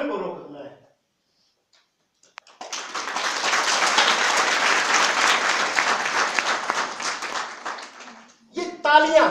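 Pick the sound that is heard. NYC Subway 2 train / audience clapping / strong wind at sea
audience clapping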